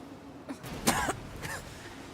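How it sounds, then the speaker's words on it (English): An android character coughs in the video game NieR: Automata, a short burst of two or three harsh coughs close up, with a fainter cough trailing after over a low background hum. "Why is he coughing?"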